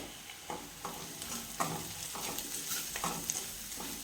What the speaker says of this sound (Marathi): कांदा छान बारीक परतेपर्यंत परतून घेऊया.